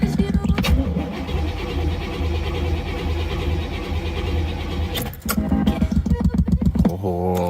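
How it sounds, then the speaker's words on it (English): A 1987 Corvette C4 engine cold starting in below-freezing winter weather after an IAC valve replacement, with a long loud sluggish crank that pauses, then cranks again in a quick rhythmic churn. "I've been doing some cold start tests to make sure that the IAC replacement is going well and the car starts in the cold"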